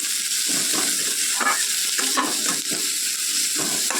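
Onion fries in leftover fish-frying oil in a pan, a loud continuous sizzle broken by repeated scraping stirs of a spatula.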